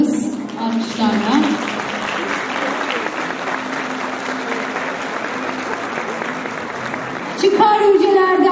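Concert audience applauding a Turkish folk music choir's soloist as a flower is presented, a steady wash of clapping that swells near the end with voices over it.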